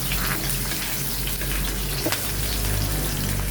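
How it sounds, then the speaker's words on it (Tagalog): Ginger and onion frying in hot cooking oil in a pan, a steady dense sizzle like hard rain, loud and close, with a faint clink of stirring partway through. "Nilagay ko na yung mantika at sinunod ko na yung luya."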